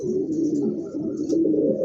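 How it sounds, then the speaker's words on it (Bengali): A pair of spot swallow pigeons coo nearby, low, throaty rolling calls repeating in a steady murmur, clear and close with no talk. "খুবই চমৎকার একজোড়া কবুতর"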